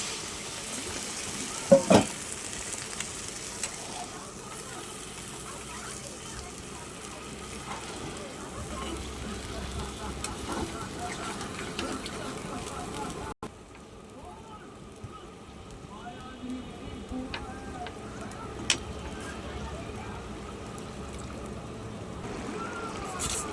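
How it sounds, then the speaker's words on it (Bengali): Water poured into a spice paste frying in a pan for a chapila fish and eggplant curry; a steady sizzle fills the first half, then drops abruptly to a quieter, softer bubbling. "এবারে এর মধ্যে দিয়ে দিচ্ছি জল"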